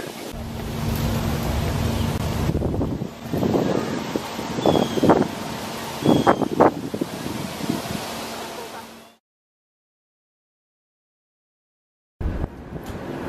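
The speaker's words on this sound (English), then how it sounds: "It's windy, very windy." Strong wind roars and buffets the microphone in heavy gusts on a New York City street, with a few faint voices underneath, then cuts to silence before the wind returns.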